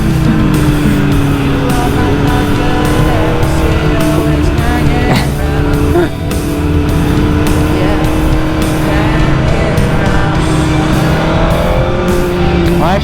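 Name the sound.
BMW M1000R motorcycle riding in second gear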